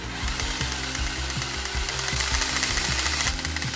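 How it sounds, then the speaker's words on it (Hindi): A saw blade adapter fitted to a cordless screwdriver cuts through a 1 cm thick board, a loud, fast rhythmic rasping chatter as the blade strokes back and forth over the motor's whine, with no talk. "आपको बस अडेप्टर के शाफ्ट को स्क्रू ड्राइवर में लगाना है और ट्रिगर दबाना है।"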